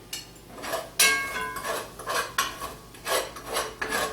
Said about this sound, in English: Scraping up all the delicious brown bits